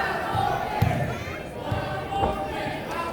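Wrestling crowd noise from a live match audience, a steady rumble of cheering with a few thumps and louder swells, fairly distant and continuous.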